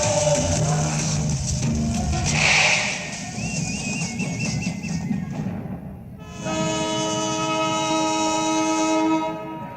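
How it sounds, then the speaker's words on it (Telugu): A passenger train sets off from a station, a steady rumble of cars and wheels running throughout, with a long sustained horn sounding in the second half, loud and close. "అయ్యో ట్రైన్ కదిలిపోతుంది."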